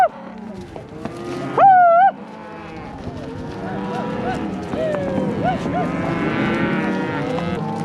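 A cow lets out one loud, drawn-out moo during a cattle drive through thick trees, followed by lower calls and continuous movement noise from the herd.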